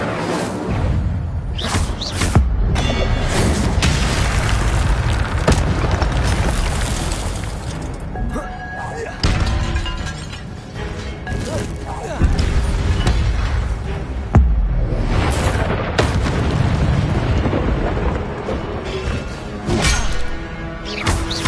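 Spell combat in Hogwarts Legacy, with Incendio fire spells bursting in loud whooshing blasts amid crashes, thuds and impacts, a dense, continuous barrage of close action effects with occasional shouted voices.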